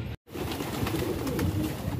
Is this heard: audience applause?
no